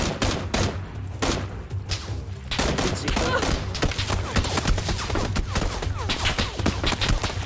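Video game gunfire in PUBG, a rapid fusillade of cracking shots continuing throughout at moderate loudness, with steady game background noise and no clear talk.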